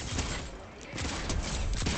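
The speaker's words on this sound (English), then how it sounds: "Why's the dealer always shooting at me now these days?" Gunfire from a dealer character in Fortnite, a dense rattling fusillade of shots running through the whole moment at moderate loudness, mixed with game sounds and some voice.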